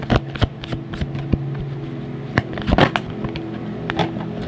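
Tarot cards are shuffled close by, a crisp run of riffling flicks and papery slaps with small bursts and pauses, no voices.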